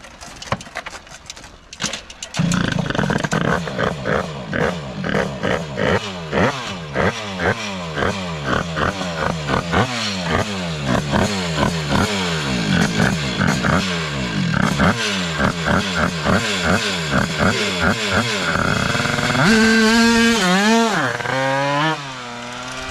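A drag-racing motorcycle revs hard in repeated rising bursts of raw engine roar, loud and close, climbing and dropping through the gears, ending in a final high wail.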